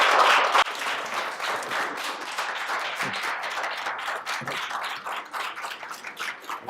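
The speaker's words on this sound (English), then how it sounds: "thank you so much for the round of applause" An audience applauds after a speech by Delaine Eastin to USF PDK members. Dense, sustained clapping rises loudest at the start and carries steadily on without fading away.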